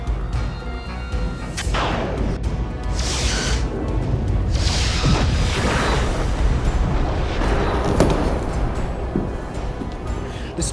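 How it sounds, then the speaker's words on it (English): Weapons fire from starship battlecruisers in a Star Trek space battle, heard as a run of loud booming blasts and crashing explosions over several seconds with a dense rumbling background. "Battlecruisers are opening fire."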